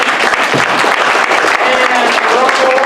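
An improv comedy show audience breaks into loud, close applause, dense clapping running throughout with a voice briefly audible over it.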